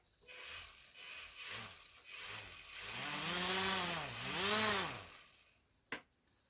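The small electric motor of a Microaces SE5a radio-control model plane spins up in short bursts, then into a longer rising and falling whine with a buzzing, ratchety edge, close by, ending with a sharp click and no talk.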